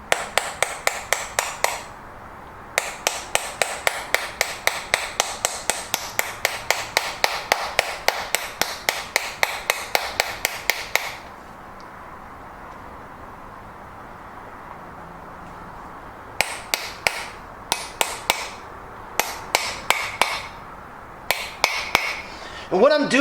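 A 74 millimeter seal driver is hammered to seat a hub seal on an Isuzu manual-hub assembly, sharp metallic taps in steady rapid bursts, close and loud, broken by a long pause before further blows.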